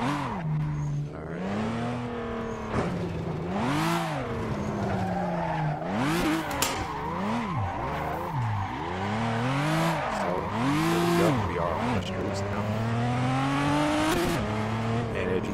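Simulated car driving in Assetto Corsa on a GTA V map, with a continuous engine note rising and falling through repeated gear changes and revs, loud and steady for the whole stretch, with occasional tire squeal.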